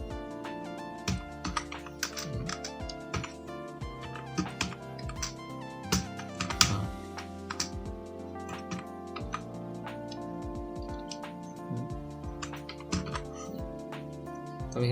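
Fast, steady typing on a computer keyboard fills the whole stretch with dense, even key clicks and occasional heavier thunks, close and moderately loud, with no talk.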